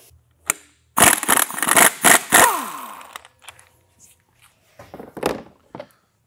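Impact wrench bursts loosening the 22 mm crankshaft balancer bolt on a 2005 Subaru Forester engine, several loud close rattling bursts over about two seconds, then quieter clunks and a short knock later.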